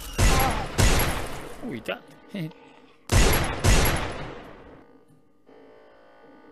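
Gunfire in the VR zombie game Wretched: loud, close bursts of rapid shots in two clusters separated by a pause, with a brief spoken exclamation between them.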